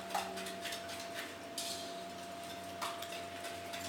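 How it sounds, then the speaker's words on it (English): A whisk clinks against a bowl while a bread pudding mixture is combined, giving a few light metallic taps and clinks over a quiet room hum. "we are going to whisk that together"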